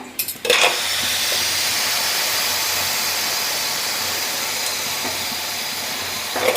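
Pressure being released from a pressure cooker on a village kitchen stove, a loud steady hiss of steam that starts abruptly and keeps going evenly, close by, before easing off at the end.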